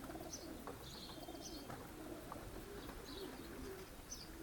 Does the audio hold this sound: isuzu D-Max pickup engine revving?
no